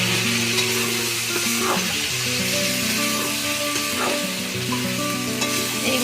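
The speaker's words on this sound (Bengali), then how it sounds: "কষানোর সময় সামান্য একটু জল দিয়ে দিচ্ছি যাতে ভালো করে কষানো যায়।" Soybean curry sautéing in a pan with a little water added, a steady loud sizzle and bubbling frying sound with repeated stirring scrapes, close and continuous, with no talking.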